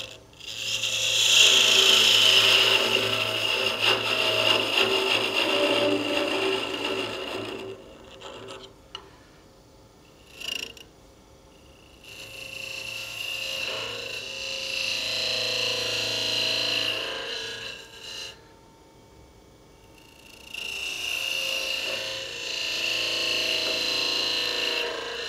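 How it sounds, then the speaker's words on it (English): A skew chisel cuts wood on a lathe while turning a Christmas candle holder, making a steady, loud rasping hiss in three long passes separated by brief pauses, with a low motor hum running beneath. "Skew chisel."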